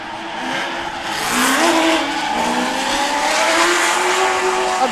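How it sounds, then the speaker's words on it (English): Corvette race car driving on a track at a FuelFest event, its engine revving and shifting pitch as it powers through a corner with a brief tire squeal, fairly close and loud. "Adam trying to get to the inside of that Corvette"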